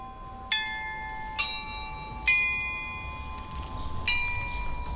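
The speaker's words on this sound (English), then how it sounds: "you'll hear the bells ring at the marketplace" Church bells at a town marketplace in Eschwege, Germany, ring out in four separate clear strikes, each leaving a long shimmering ring that fades slowly, heard from a moderate distance.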